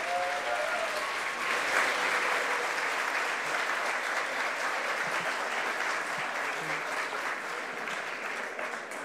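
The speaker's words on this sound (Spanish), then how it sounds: "Pues un fuerte aplauso para todos de nuevo" An audience at an ICPC Latin America programming championship closing ceremony breaks into a sustained, dense round of applause, loud and even throughout, with a brief voice at the start.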